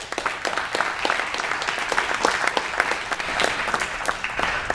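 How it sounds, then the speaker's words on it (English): Audience applause at an energy debate event in Australia, a sustained, even round of clapping from a sizable crowd lasting the whole stretch. "A warm round of applause, please,"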